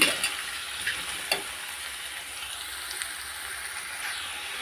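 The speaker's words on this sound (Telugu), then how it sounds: "ఇలాగ బీరకాయ ముక్కలు మొత్తం నేను వేసుకున్నాను ఇలా కలుపుకోవాలి" Ridge gourd pieces being stirred in a cooking pan, a soft steady hiss with a few light scraping clicks from the spoon, close and fairly quiet, no voices.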